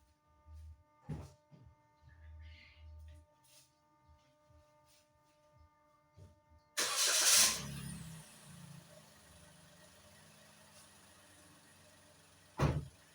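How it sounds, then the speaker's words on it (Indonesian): A Toyota Raize compact SUV engine cranks and fires, a sudden loud burst of starter and ignition that settles into a steady idle hum, preceded by faint cabin clicks and followed by a short click near the end. "Nah ini sekarang saya akan nyalakan mesinnya, ya."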